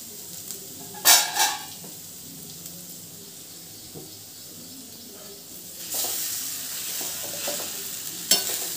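Rice stirred into frying vegetables in a pan for a no-onion, no-garlic vegetable rice; brief loud scraping bursts near the start, a quieter stretch, then sizzling and stirring swell again toward the end, with no talking.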